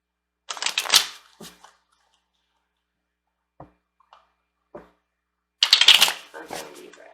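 A deck of new tarot cards being shuffled, two loud crisp riffling bursts at the start and end with a few soft taps between, close and alone.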